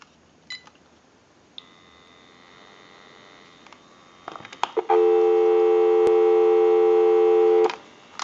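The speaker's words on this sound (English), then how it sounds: "Go ahead and give you some dial tone." After a few clicks and a short beep, a steady dial tone on a GE cordless telephone hums loudly and continuously for about three seconds, then stops with a click.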